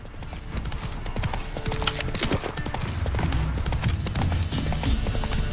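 Roach, the horse in The Witcher 3, trots along in a quick, steady clip-clop of hooves that stays close and clear throughout, with a faint whinny and game ambience underneath.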